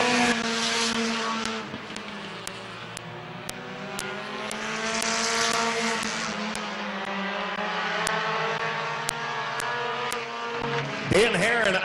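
Race cars roar around Midvale Speedway during the 2023 Fall Classic, engine notes rising and falling steadily as they pass, with a commentator speaking over the racing.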